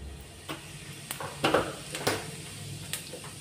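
Cumin seeds crackling in hot oil for a chhole tadka, faint sizzling under a handful of sharp clinks and scrapes of a spoon stirring the pan, irregular and close, no voices.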